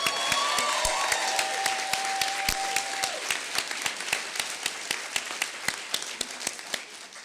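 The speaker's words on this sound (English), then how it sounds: "let's have a big round of applause for them" Sustained audience applause for a student jazz band at a New School recognition ceremony, dense and steady, with a tone ringing briefly early on and separate sharp claps standing out as the clapping thins toward the end.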